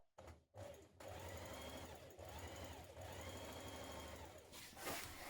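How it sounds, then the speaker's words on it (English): Near and steady, a sewing machine stay stitches along the neck edge of a dress, a continuous mechanical hum with a quick needle chatter that pauses briefly before going on. "now we're going to stay stitch around the neck edge"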